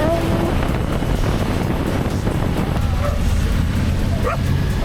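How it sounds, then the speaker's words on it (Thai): A small dog barks in a few quick yips during a motorcycle trip in South Africa, heard against strong wind rushing over the microphone and a steady engine-like rumble. "อุ้ยเจ้าหมาน้อย สิงหาเห่าแล้ว"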